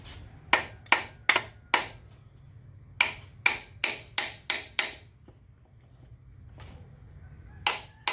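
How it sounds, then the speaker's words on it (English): Sharp metallic hammer taps on a stuck piston in a Willys Jeep F134 engine during teardown, struck in quick clusters of three to five blows with short pauses, close and ringing over a low background hum. "we're going to have to give that one some love taps"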